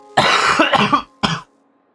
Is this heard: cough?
yes